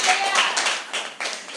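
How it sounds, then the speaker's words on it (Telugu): A church congregation clapping hands together in worship, a dense, steady patter of many hands filling the room, with a voice carrying over the clapping. "గట్టిగా చప్పట్లు కొట్టండి దేవునికి."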